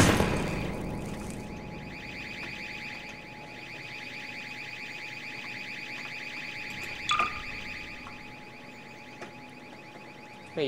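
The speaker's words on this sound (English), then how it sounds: "Because they're just making the alarm noise." A steady electronic alarm drones continuously in Garry's Mod, with a pulsing tone and a few brief knocks layered over it.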